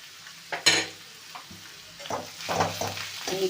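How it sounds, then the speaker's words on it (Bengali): Radish leaves fry in a pan with garlic, chili, salt and turmeric, giving a soft hiss broken by several scraping stirs, the loudest early on, then a busier sizzle building toward the end. "মুলোর পাতা রসুন লঙ্কা নুন হলুদ মিষ্টি সব দিয়ে একসঙ্গে ভেজে নিয়েছি"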